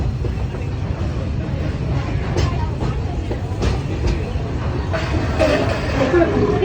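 A Magic Kingdom ride train, Big Thunder Mountain, runs on its track with a loud, steady rumble and rattling clatter close by throughout.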